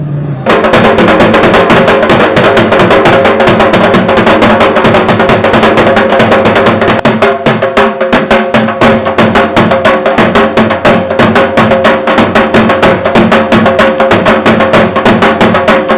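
An audience at a pigeon-racing trophy prize ceremony claps loudly and continuously, dense applause rising suddenly after a brief moment and carrying on close and full for the whole stretch.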